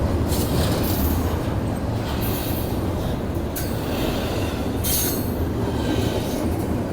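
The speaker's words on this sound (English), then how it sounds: "this is the intermodal stacker train." A Union Pacific intermodal stacker freight train rolls steadily eastbound past close by, a loud continuous rumble and rattle of cars with occasional wheel squeals.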